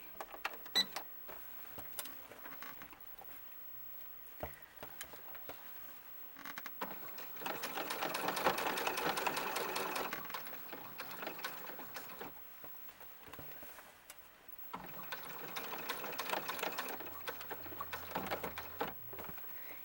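A sewing machine stitches a basic dress for a 60cm Resinsoul doll, running in two long, steady whirring bursts with short starts and pauses between, close and fairly loud with no talking.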